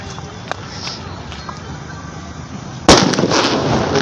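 Diwali firecrackers burst outdoors on the last night of the festival: after a stretch of scattered faint pops and crowd noise, a loud, close blast erupts near the end and sets off a sustained crackling barrage.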